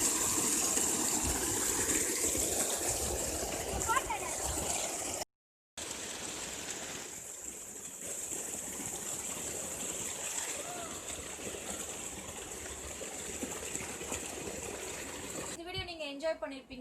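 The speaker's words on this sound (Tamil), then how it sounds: "அருவி அருவி" A village waterfall gushes in a continuous rushing roar that drops out for a moment before carrying on, with faint voices and splashing mixed into the steady flow.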